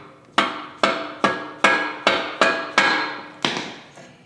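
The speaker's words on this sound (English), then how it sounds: "So we're just going to use a rubber mallet." A rubber mallet strikes a fork part through a motorcycle frame during a cafe racer build, eight sharp, evenly spaced blows with brief ringing decay, close and loud with no talking.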